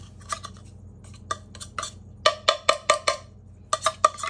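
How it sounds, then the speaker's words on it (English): A spoon scraping and clinking inside a metal tuna can, a series of bright metallic taps, sparse at first then a quicker run of knocks, close and clear. "I am going to reuse this can, so I'm going to get the tuna out of it."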